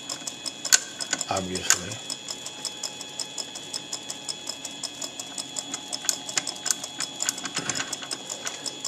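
Homemade tool post grinder running on a mini lathe, a light rapid mechanical ticking and whine held at low level, with someone talking over it in short bursts.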